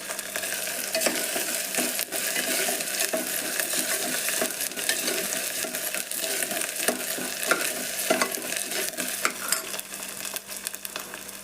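Tomato frying in oil for red chili masala rice, a dense, continuous sizzle close by, broken by frequent scraping stirs, with no talking.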